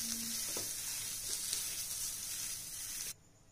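A mashed mix of five boiled medium potatoes and spices is stirred in a pan over a very low flame, giving a steady soft sizzle with faint scraping that continues for about three seconds, then drops away abruptly.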